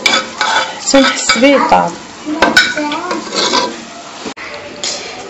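Berkoukes stirred in a cooking pot, with a utensil scraping and clinking against the metal in irregular strokes, close and fairly loud, while someone speaks briefly over it.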